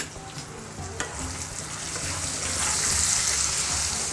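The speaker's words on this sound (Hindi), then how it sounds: "ओल को हम फुल फ्लेम पे ही फ्राई करेंगे" Chunks of suran (elephant foot yam) coated in salt, turmeric and garlic-chilli-ginger paste fry on a full flame, a dense, close sizzle that swells louder and brighter toward the end, with a stirring knock early on.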